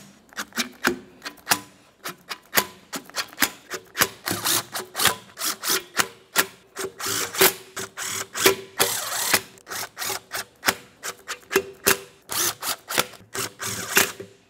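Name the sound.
tightening intake manifold bolts with a ratchet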